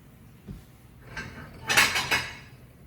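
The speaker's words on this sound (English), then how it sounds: "Get a plate." Dishes and cutlery clink briefly in a home kitchen as a plate is taken out, a few light knocks followed by two brighter clattering bursts near the end, close and moderately loud with no talking.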